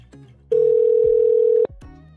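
A telephone dial tone on a call to Lenovo warranty support sounds as one loud, steady, unbroken tone lasting about a second, with quieter room noise and short clicks before and after.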